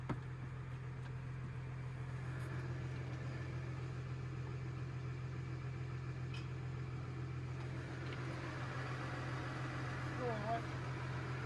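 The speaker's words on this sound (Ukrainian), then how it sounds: "запускати будемо трактор" Tractor engine running steadily with the power take-off engaged at 540 rpm while a new seed drill is started up, a constant low hum holding throughout, with a few faint voices in the background.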